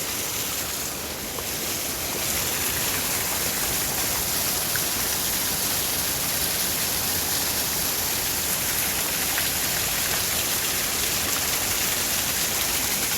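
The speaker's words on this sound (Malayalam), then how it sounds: "ഇവിടെ പാറയുടെ മുകളിൽ നിന്ന് വെള്ളം വന്നുകൊണ്ടിരിക്കുന്നുണ്ട്." Water pours down over rocks at Thusharagiri waterfalls, a constant, full roar of falling water that stays even and loud throughout, with no talking.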